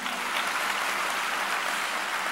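Audience applause, a dense, steady wash of many hands clapping, heard alone and fairly loud throughout.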